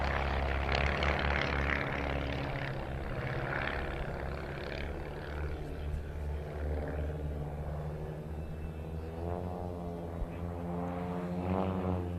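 Formation aircraft at the 2023 Joint Base Lewis-McChord airshow throttle up, producing a continuous distant propeller-engine roar that swells and shifts in pitch over several seconds, with no voices.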